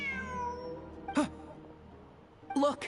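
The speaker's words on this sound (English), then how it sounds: "Look, a cat" A cat in the game Genshin Impact gives two short meows about a second apart over soft, quiet background music, each call brief and clear.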